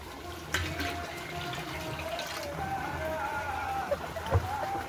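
Half a litre of liquid Trichoderma viride solution is poured into a 50-litre batch of water for a coconut palm treatment, a faint steady watery splash and trickle lasting throughout.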